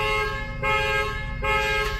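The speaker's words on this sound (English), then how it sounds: "Bro, the fucking car is going off" Car horn blaring in three long, loud blasts separated by brief gaps, steady and insistent with no voices.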